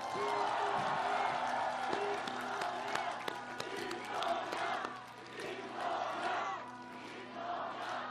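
A large outdoor crowd at a Lee Jae-myung presidential campaign rally in Yeongdeungpo claps and cheers in a sustained, dense roar with shouts rising above it, steady throughout and easing slightly midway.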